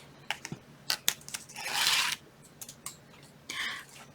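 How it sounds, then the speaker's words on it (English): Score tape peeled off a handmade journal cover, a long tearing rip in the middle flanked by short crinkly clicks and pulls, close and quiet with no voice. "So go ahead and take your score tape off"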